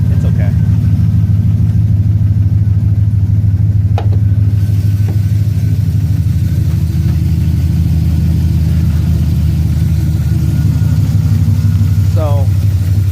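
An old OBS-era GMC pickup truck engine idles loud and close, a steady low rumble throughout with slight shifts in tone and no talk over it.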